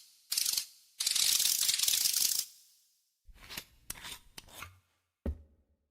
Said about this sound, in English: we're gonna use the wrench to spin it